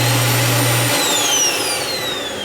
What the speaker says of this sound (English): You simply raise this, put the hose in, and turn the switch on.